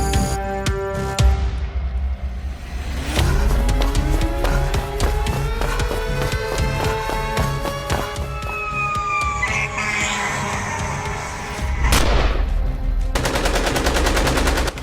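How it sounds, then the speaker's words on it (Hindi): Dramatized attack with rapid bursts of heavy gunfire, loud and close, over dense staging with sweeping tones and a siren-like wail, a sharp blast near the end, and no talking. "आगे बढ़कर शदीद फायरिंग की।"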